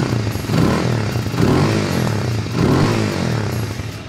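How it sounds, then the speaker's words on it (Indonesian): A motorcycle engine revs close by in short bursts, a loud, rough, throaty rumble that swells and eases in a few rhythmic waves with no talk over it. "Dan kita gerung dikit guys"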